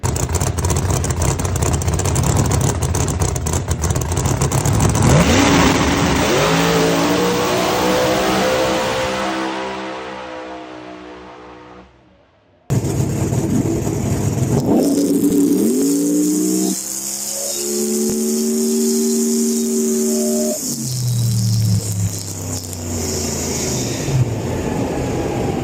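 Outlaw 32 race car makes a pass, its engine note climbing loudly as it accelerates and then fading, followed by a second loud rising pass that trails off.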